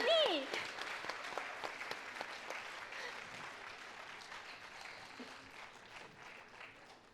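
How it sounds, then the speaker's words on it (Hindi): An audience claps steadily, a dense patter of hands that gradually fades, with a voice speaking briefly at the start. "जोरदार तालियां"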